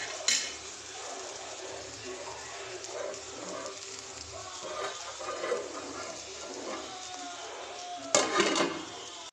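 Bitter gourd and green chilli stirred in a pan, with scattered clinks and scrapes of a utensil against the pan at moderate level, ending in a louder clatter near the end; no talk.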